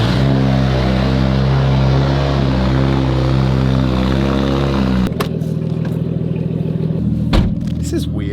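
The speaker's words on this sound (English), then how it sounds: "The exhaust came with the car, but it sounds awesome." A JDM car's engine and aftermarket exhaust idles with a deep, steady drone, then shifts to a rougher, throatier note with sharp transient knocks and a brief surge near the end, heard up close.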